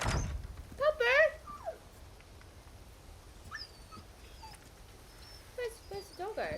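Wolf whimpering in the video game Resident Evil 4 Remake, high wavering whines in a short burst near the start, then fainter scattered yelps and whimpers over a quiet background, with a person talking at times.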